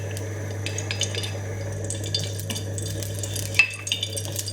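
A pot of rice and lentil khichuri bubbles steadily over heat, a constant low simmer with soft pops and light clinks of utensils nearby, with a persistent low hum underneath.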